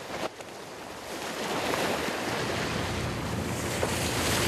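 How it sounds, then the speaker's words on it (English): A tugboat works the river Elbe near Hamburg, carrying workers out to a suction dredger. Its passage brings a broad, continuous rush of wind and water wash that grows louder after the first second, with no voices. "A tugboat brings the new shift of workers out to the suction dredger."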